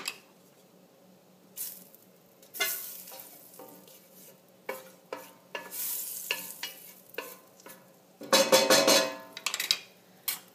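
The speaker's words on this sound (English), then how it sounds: "Now you want to add all of your aromatics, all that ginger, that garlic, and your lemongrass." Ginger, garlic and lemongrass stirred in a hot pot while cooking mussels: a steady sizzle broken by scraping stirs and bursts of louder frying, close, with no voices.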